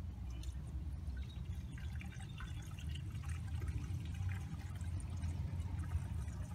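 Coolant pours steadily into the radiator of a 2011 BMW 535i after an upper radiator hose replacement, a continuous close liquid rush with a low rumbling undertone and no talking.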